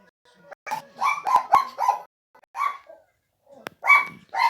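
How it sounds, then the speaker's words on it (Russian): A dog barks in several bursts of sharp, fairly close barks separated by short silences, a few yips and whimpering notes mixed in. "на фоне гавкает собака"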